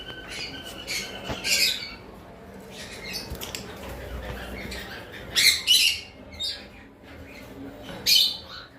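High-mutation lovebirds give sharp, squeaky chirps and squawks in scattered bursts, some loud and close, over a quiet background.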